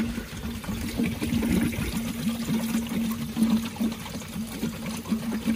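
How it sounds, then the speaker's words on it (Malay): Water drains from a Nissan Serena's air-conditioning, pouring and trickling steadily without pause, a continuous close splashing flow. "Ada bunyi air gas kan?"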